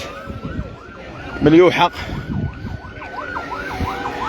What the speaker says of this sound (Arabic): سيارة الاسعاف ديال مكتب شريف الفوسفات، انهم كانوا قراب هنا للمنطقة